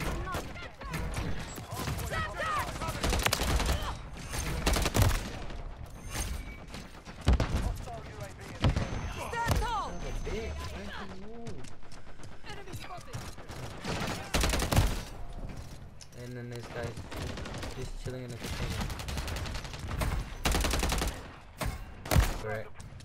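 Gunfire in a Call of Duty match, with repeated rapid bursts and sharp shots spread throughout, loud and close, while people talk over it.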